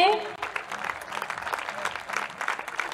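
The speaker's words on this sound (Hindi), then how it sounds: "तालियां बजती रहे।" Audience applause for a guru welcomed at a Hindi comic poetry gathering, a steady patter of many hands filling the room for about three seconds after a brief voice at the start.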